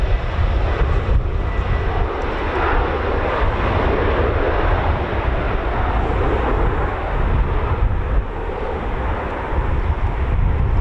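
An Embraer jet rumbles steadily at an RAF air station, a loud broad roar with some wind buffeting and no talking.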